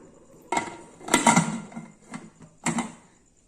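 Metal cake tin set down inside a cooking pot and the lid closed over it, a few sharp clanks and scraping knocks of metal on metal, close and alone.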